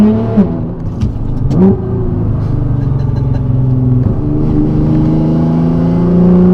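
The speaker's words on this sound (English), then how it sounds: "this car is stupidly loud all the time. Listen to that." A loud Nissan GT-R exhaust with a malfunctioning muffler revs and drones, with deep rumbling rising and falling in pitch as the engine accelerates, close by and steady.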